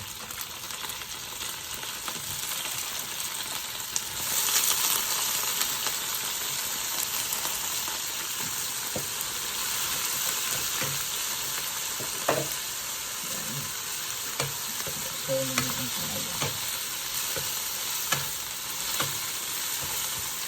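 Sliced bitter melon, ampalaya, sautés in a hot pan with a constant close sizzle and crackle, broken by occasional scrapes and clinks of stirring, with no talk.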